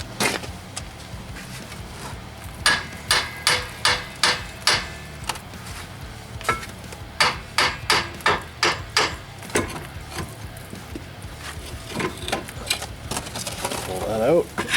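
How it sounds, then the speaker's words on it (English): A hammer strikes a rusted rear strut on a 2000 Toyota Camry XLE, sharp metallic blows landing in quick bursts and irregular clusters, close and clear, with brief pauses and some shuffling between strikes. "Just gonna have to hammer this old strut off a bit."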